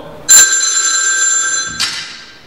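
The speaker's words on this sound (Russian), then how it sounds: "первый телефон и звонок." An old-style telephone bell rings in two loud bursts, each a bright metallic jangle that decays slowly, with a short pause between and no talking.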